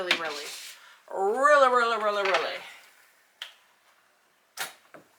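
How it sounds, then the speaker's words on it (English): A voice speaks first, then a Crafit 4-tier heat press stand gives a few sharp, close clicks as a tier locks into place, separated by short silences. "to pull it back up, you just lift it up and it clicks"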